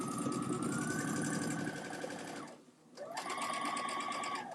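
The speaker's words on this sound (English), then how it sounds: "I'm going to back stitch at the top and bottom of these pockets again." A sewing machine runs steadily while back stitching the pockets of a bag, its whirring motor loud and continuous, briefly slowing to a stop near the middle before starting up again at full speed.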